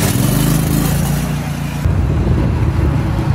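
The pressure washer engine on a trash can cleaning trailer runs loudly and up close, a steady small-engine drone that shifts in tone partway through, then carries on rough and continuous with no voices.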